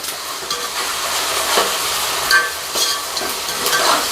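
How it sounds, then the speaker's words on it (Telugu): Ginger paste, onion and curry leaves fry in hot oil with a steady, loud crackling sizzle and occasional stirring scrapes, no voices present. "ఇంకా అల్లం పేస్ట్ ఉల్లిగడ్డ కరివేపాకు అయితే నూనెలో బాగా మంచిగా మగ్గుతుండది"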